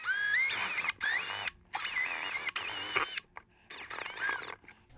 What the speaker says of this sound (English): I'm gonna go ahead and drill those holes out now